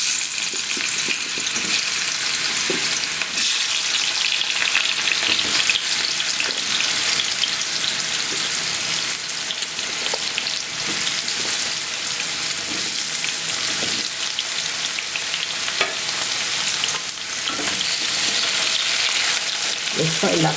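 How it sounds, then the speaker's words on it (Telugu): Cucumber pieces sizzle and fry steadily in hot oil in a pan, a dense, continuous crackle that stays loud and even for the whole stretch with occasional stirring, no voices. "ఆయిల్ వేడైందండి. ఇందులోకి మనం కట్ చేసి పెట్టుకున్న దోసకాయ ముక్కలు వేసుకోవాలి."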